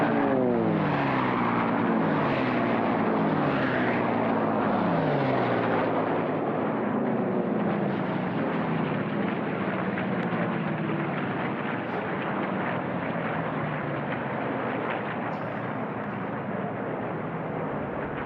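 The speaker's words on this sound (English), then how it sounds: "we're gonna be quiet here in the mic and just listen to those beautiful sound of those engines" Unlimited class racing planes with piston engines roar past, a loud, sustained drone whose pitch sweeps downward as they pass and fade slightly, with no talking.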